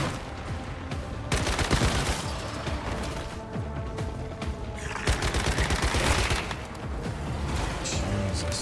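Video game gunfire crackles in dense, rapid bursts and volleys, loud and nearly continuous throughout, with no voices.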